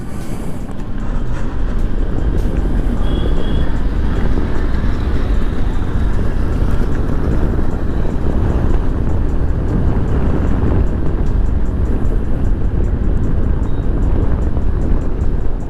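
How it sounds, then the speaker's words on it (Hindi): TVS Orbiter electric scooter being ridden in eco mode, giving a steady, loud broadband rush of wind and road noise with a low rumble throughout, no speech. "जैसे मैं एक बार स्टार्ट करता हूँ और आपको दिखाता हूँ कि एक बार इको मोड पे स्कूटर कहाँ तक जाती है।"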